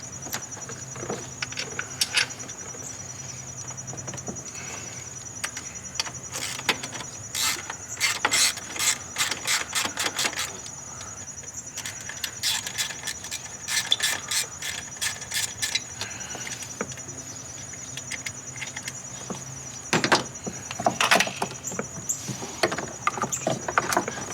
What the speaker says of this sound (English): Let's get these bolts snug back up.